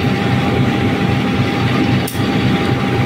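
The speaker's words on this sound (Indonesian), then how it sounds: "Kereta api Pandalungan dari stasiun Jember tujuan stasiun Jakarta Gambir." Pandalungan train from Jember to Jakarta Gambir running, a steady loud rumble with a faint thin whine and one brief dip, heard as if from on board.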